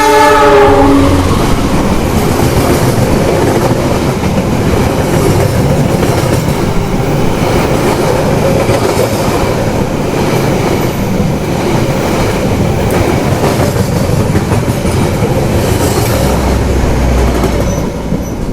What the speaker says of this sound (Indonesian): Kereta api Sembrani sudah menyusul kereta api Sancaka Utara yang saya naiki